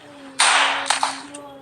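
A gunshot in a shooting video game: one sharp, bright crack with a short decaying tail and a few quieter follow-up snaps, over a faint steady hum.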